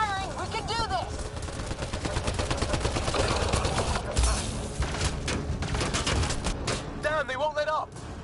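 Dense, continuous gunfire in the Mass Effect video game, with rapid shots and thuds running throughout under shouted in-game voices.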